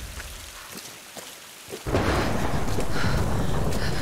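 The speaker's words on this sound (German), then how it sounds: "Warum regnet das jetzt auch so" Heavy rain and thunder in the coastal forest of the video game Tomb Raider: a quieter stretch of scattered drops gives way, just before the two-second mark, to a loud, dense downpour with rumbling storm noise that continues steadily to the end.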